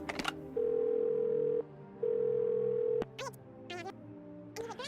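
A phone call placed in the game Do Not Feed The Monkeys: two long, loud steady tones with a pause between them, like a ringing line, followed by short chirpy electronic blips.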